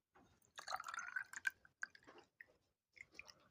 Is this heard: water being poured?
yes